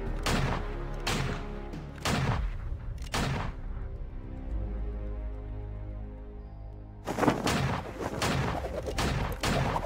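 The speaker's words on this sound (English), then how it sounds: "Let's go shoot some stuff." Gunfire in the video game Vainglory, rapid bursts of sharp shots in two clusters separated by a few seconds of low droning game ambience, loud and close with no talk.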